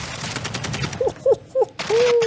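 Pistol shots crack in a Modern Warfare 2 match over busy game sound, a few quick isolated bursts with a rising tone at the end, loud and close.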